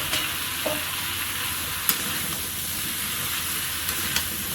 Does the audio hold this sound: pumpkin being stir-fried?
yes